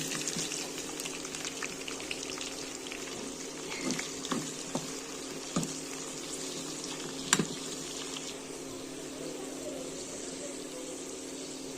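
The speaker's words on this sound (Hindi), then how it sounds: "मैं इसमें ये चॉप्ड अनियंस डालूँगी।" Chopped onions fry in oil for a chicken dish, giving a soft, steady sizzle at low volume, broken now and then by light clatters of a utensil against the pan.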